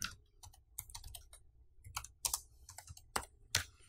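Quiet typing on a computer keyboard: irregular bursts of sharp key clicks, close and alone, with short pauses between keystrokes.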